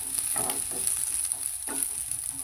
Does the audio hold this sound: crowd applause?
no